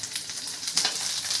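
Curry leaves and asafoetida sizzle in hot oil for a lemon rice tempering, a loud, close, continuous crackling fry heard alone.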